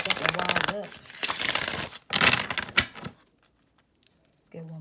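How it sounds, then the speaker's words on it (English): A Divine Animal Oracle card deck is shuffled by hand in rapid, papery riffling bursts that stop into near silence, followed by a brief voice at the end. "Let's get one more shuffle."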